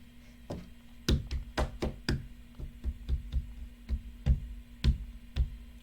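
Sharp hand claps and knocks struck against a bunk bed, a dozen or so irregular hits spread over several seconds, close and fairly loud over a steady low hum.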